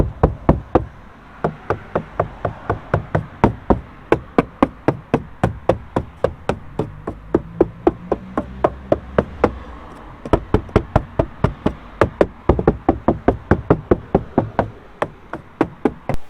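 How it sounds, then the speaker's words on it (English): Knuckle knocks on the standard door cards of a Fiat Ducato van, sharp hollow raps in quick bursts of several hits with brief pauses, close and alone. "I thought I'd give the standard door cards a knock so we could hear the difference before and after."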